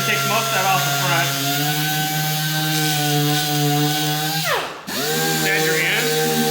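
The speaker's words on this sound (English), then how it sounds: "First you sand it with the 240 hook and loop." A 240-grit hook-and-loop power sander works a cabinet door, its motor giving a steady, loud whine that dips briefly in pitch and volume before returning to full speed.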